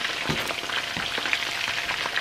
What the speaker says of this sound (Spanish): Lo voy a dejar hasta que quede bien doradito, más sabroso.